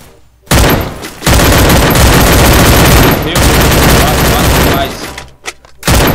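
Automatic gunfire in the Free Fire battle royale game, two long loud bursts of rapid shots separated by a short pause, followed by a few scattered hits, played close and dense.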